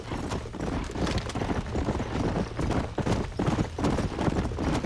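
Horses in the Red Dead Redemption video game clip-clop along in a busy rhythm of hoofbeats, with low rumbling ambience and occasional whinny-like sounds underneath.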